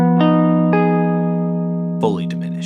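A half-diminished chord rings out on guitar, struck and then struck again, each time sustaining cleanly and fading, before a voice begins speaking at the end.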